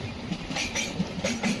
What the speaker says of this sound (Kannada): ಚಿಕ್ಕಮಗಳೂರಿಂದ ತಿರುಪತಿಗೆ ಹೋಗೋ ವೀಕ್ಲಿ ಎಕ್ಸ್ಪ್ರೆಸ್ಸು ಕ್ರಾಸ್ ಆಗ್ತಿದೆ